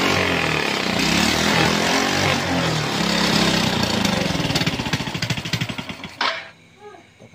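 A rebuilt motorcycle engine that had burnt out starts and runs loudly at close range, its rapid firing pulses steady for several seconds before it cuts off near the end.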